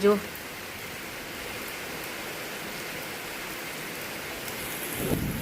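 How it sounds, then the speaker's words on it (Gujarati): A thunderstorm with steady rain hissing on surfaces, then a deep rumble of thunder swells near the end over the continuous downpour. "જો કેવી ગાજે છે, બાપરે બાપ"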